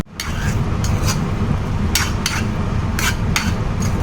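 A metal spoon scraping and clinking against a pan while mixing chicken gravy with kasuri methi and salt, a few sharp clinks over steady sizzling, close and loud.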